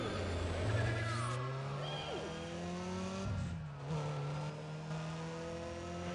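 Racing car engines in the Need For Speed ProStreet video game, loud revving tones climbing and shifting in pitch with overlapping engines, a brief dip midway before the roar resumes, continuous and close.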